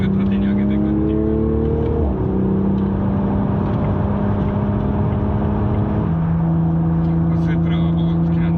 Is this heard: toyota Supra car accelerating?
yes